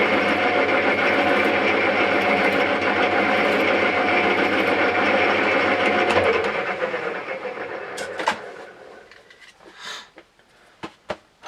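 A spinning tachometer surface speed wheel on a lathe whirs steadily while a file is held against its outer rim, a loud continuous grinding hum that winds down after about six seconds, leaving faint clicks and knocks.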